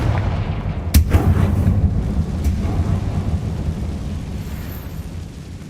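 A Confringo spell explosion in the video game Hogwarts Legacy bursts with a sharp crack, followed by a heavy rumbling roar that lingers and slowly fades.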